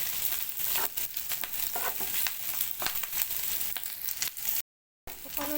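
Onions frying in a pan for Alexandrian sausage: a close, continuous crackling sizzle with scattered pops and stirring scrapes, broken by a brief dropout near the end.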